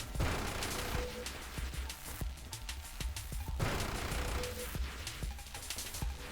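Enemy projectiles fire in the space shooter Nova Drift as a dense, continuous barrage of rapid blasts and pops. The volley is loud and unbroken, with sharper bursts punctuating it throughout.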